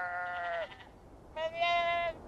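Sheep in the video game Beyond: Two Souls bleat twice, two clear, close, wavering calls separated by a short pause over a quiet background.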